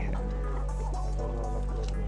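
Hens cluck on a poultry farm, giving short, close clucks over a steady, loud background hum.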